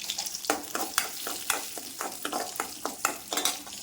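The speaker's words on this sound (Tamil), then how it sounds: "முதல்ல முந்திரி கொஞ்சம் நெய் ஊற்றி முந்திரி போட்டுக்கிறேன்" Cashews and raisins frying in ghee for wheat payasam are stirred with a spoon, giving a steady close sizzle broken by regular scraping strokes against the pan, roughly twice a second.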